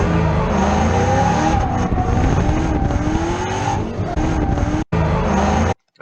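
A drift car slides through a corner, its engine droning loud and close with shifting revs while tires hiss and squeal, broken by a couple of abrupt cuts near the end.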